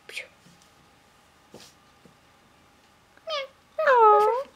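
A voice imitates a cat's meow, a short rising-falling whine near the end, after a few soft breathy sounds and quiet background noise.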